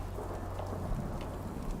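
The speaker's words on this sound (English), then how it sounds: "And it's raining very suddenly." Steady rain pours in Fallout 4, a dense, continuous wash of falling water with low rumbling underneath, no voices.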